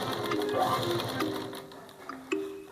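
A sewing machine runs steadily while stitching the cup seam of a blouse, its close, continuous mechanical whir broken by brief pauses and shifts in speed, with no voices.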